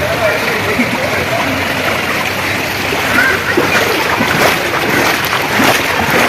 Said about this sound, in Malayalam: രണ്ട് മണിക്കൂർ മഴ പെയ്തതിന്റെ വെള്ളച്ചാട്ടാണ് ഇപ്പൊ ഈ കാണുന്നത്